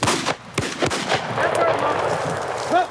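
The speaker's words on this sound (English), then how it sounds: "Nice shooting, Fred." Two loud, sharp shotgun blasts close by at a rooster pheasant while hunting, followed by a noisy outdoor background with faint voices.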